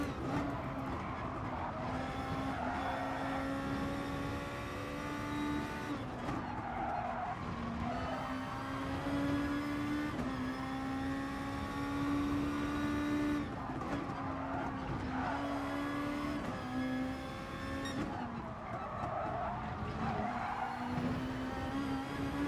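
A race car in GT Sport, its engine droning steadily as it climbs and drops through the gears and its tyres squealing in corners, continuous and up close, with no talk.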